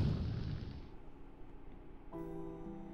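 Cannon fire in the Hakuoki: Kyoto Winds game: a heavy low boom at the start that rumbles and slowly fades, then a soft musical tone comes in.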